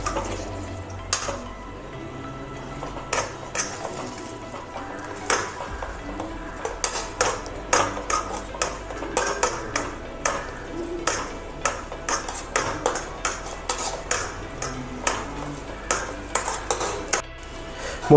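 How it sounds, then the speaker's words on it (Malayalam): Eggs being stirred in a pan for a quick egg fry roast breakfast, with a utensil repeatedly tapping and scraping the metal in an uneven rhythm of sharp clinks, close and fairly loud over a faint background hiss. "ഇനി ഒന്ന് നല്ലതായിട്ടൊന്ന് ഇളക്കി കൊടുക്കാം"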